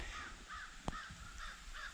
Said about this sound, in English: there's 2 crows. And they are not happy with it.